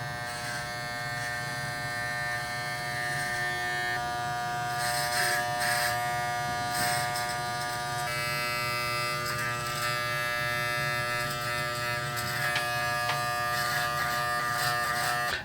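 Electric hair clippers buzz steadily and close up while lining up a hairline, with small shifts in pitch and texture as the blades move along the edge and no voices.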